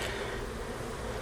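Bees hum in a steady, close, even drone at a hive being worked for a varroa mite check, with no voices over it.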